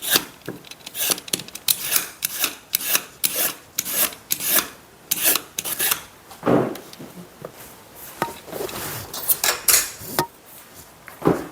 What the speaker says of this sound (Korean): 칼로 채썰어도 되고요